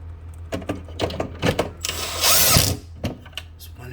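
A handheld power drill used during a Samsung freezer icemaker repair, giving short close bursts of whirring and clicking, then a longer high-pitched whine near the middle before stopping.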